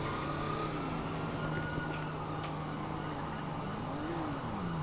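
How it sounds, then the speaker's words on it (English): A police siren in a video game wails continuously, its pitch rising and falling, over a steady engine drone and background noise. "Those sirens sound good."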